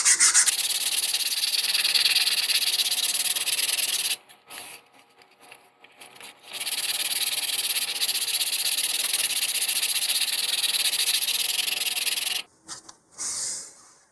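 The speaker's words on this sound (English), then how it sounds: "I've got some 100 grit sandpaper, and I'm just going to start sanding on those two ridges." Coarse 100-grit sandpaper rasps steadily back and forth across model rocket ridges, loud and close, with a pause midway and a brief break near the end.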